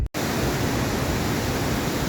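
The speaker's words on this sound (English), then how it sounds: "As you can see behind me, there is a dam." Water rushes steadily over the dam at High Falls near Bancroft, a dense, continuous roar with a brief gap right at the start, close and loud with no talking.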